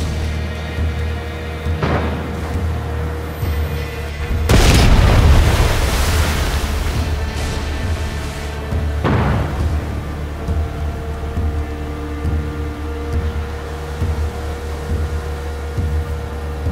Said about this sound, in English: Check out the fireworks.